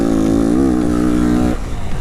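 A 2022 Yamaha WR250F engine on a motocross track at Rogers Hill Raceway, a loud close buzzing drone that rises and holds, then drops off sharply near the end as the throttle closes.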